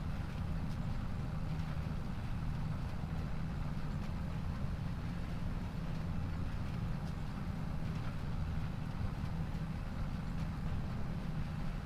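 A tractor driving along a guidance track in Farming Simulator 25, a low, constant engine rumble that drones on evenly without change.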